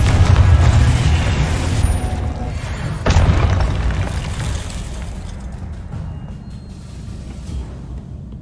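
Booming explosion from the Confringo blasting spell in Hogwarts Legacy, a loud sustained rumble with a second burst partway through, slowly fading over several seconds with no talk.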